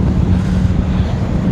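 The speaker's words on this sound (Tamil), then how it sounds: "காற்று வந்து என்னை அப்படியே தள்ளிகிட்ருக்கு." Strong wind buffets the microphone on the open deck of a budget luxury ferry in Mumbai, a loud, steady low roar with no talk.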